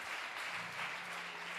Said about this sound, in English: Let us clap hands for Jesus, brethren.